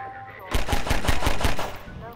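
Rapid automatic gunfire in Half-Life 2, a tight burst of about eight evenly spaced shots, loud and close, with faint game ambience before and after.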